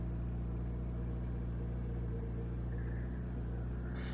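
A Subaru BRZ Group 3 race car in a racing video game holds a steady, loud engine drone with strong low harmonics, a continuous rumble at constant revs throughout with no talk.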